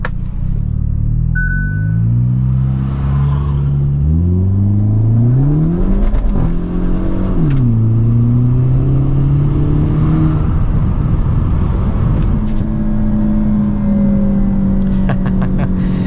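A 2022 Hyundai Elantra N makes a launch-control start, its engine holding a droning rev before pulling hard through rising gear sweeps with brief dips at each shift, loud and close from inside the cabin.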